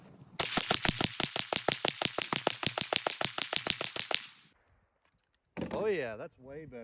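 A Ruger 10/22 rifle fires Blazer 38-grain lead round-nose rounds in a rapid, even string of about thirty sharp, loud shots over four seconds, then falls silent before a voice speaks.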